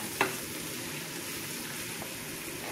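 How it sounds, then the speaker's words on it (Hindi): Onions sizzle in hot oil in a pan, partway through frying, with a steady close crackle throughout and a single sharp clink of a utensil against the pan near the start. "अभी ऑनियन में आधा फ्राई हो चुका है"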